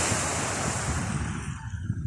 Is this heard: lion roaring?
no